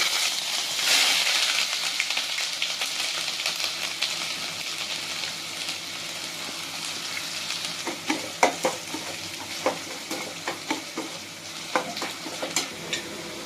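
Mustard seeds and garlic fry in hot oil for a spicy chicken roast, a constant hissing sizzle broken in the second half by sharp, scattered pops and crackles.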